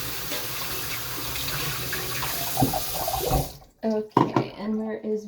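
Water runs from a tap over a pet's feeding dish at a sink, a steady broadband rush that stops partway through, followed by a few clinks and brief handling sounds.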